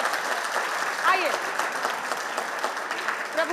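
Audience applause welcoming two poets onto the stage at a televised poetry debate, steady clapping filling the hall with a brief voice rising faintly over it.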